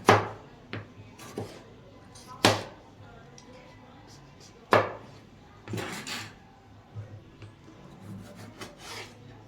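Knife slicing about two and a half tomatoes into thin strips on a board while preparing Champaran mutton, heard as a few sharp, close chopping strikes spaced irregularly among softer scraping and rubbing sounds.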